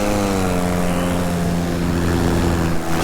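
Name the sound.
electric paramotor propeller at full throttle burst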